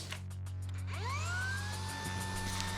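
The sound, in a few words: cordless tool dust extractor suction running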